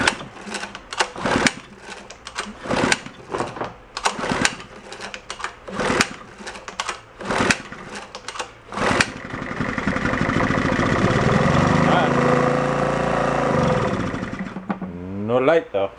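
Old Kawasaki 550 generator engine sputtering through several pull attempts, then catching and running steadily and loud, up close, for several seconds before the revs change near the end.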